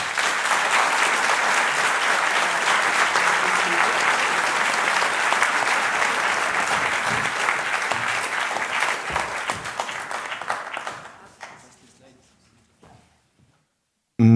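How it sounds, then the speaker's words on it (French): Sustained applause from a seated audience at a French-language presentation, dense and steady for about ten seconds before thinning into scattered claps and fading to near silence. "je pense que vous pouvez applaudir les gens qui s'occupent de vous"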